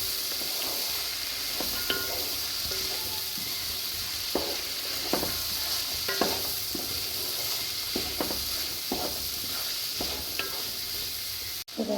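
Paneer pulao masala stirred and frying in a pan, with a steady close sizzle and intermittent scraping strokes of a spoon against the pan, no voices.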